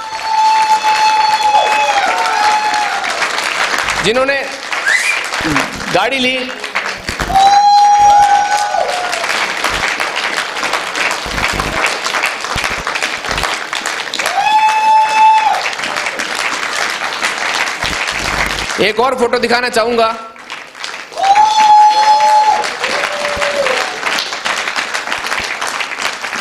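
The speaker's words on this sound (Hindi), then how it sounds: "एक बार जबरदस्त तालियां चाहूंगा।" Sustained audience applause fills a hall at a motivational dream-achievement event, loud and continuous, with a presenter talking over it at intervals and brief tonal music cues cutting through.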